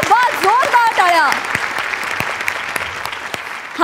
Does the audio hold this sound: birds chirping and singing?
no